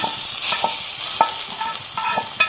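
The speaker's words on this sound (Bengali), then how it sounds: "আমি আলাদা জায়গায় ফোড়নটা বসাচ্ছি" Spices for a tempering sizzle loudly in a little hot oil with a constant hiss, broken by the repeated scrape and tap of a spoon stirring.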